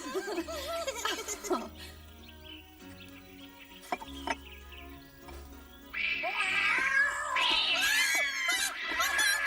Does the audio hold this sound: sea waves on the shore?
no